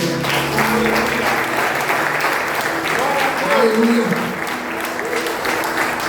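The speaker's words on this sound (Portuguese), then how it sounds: "Você pode erguer as suas mãos e aplaudir o Senhor." A church congregation claps together in sustained applause, loud and close, with a voice and sung tones rising over the clapping.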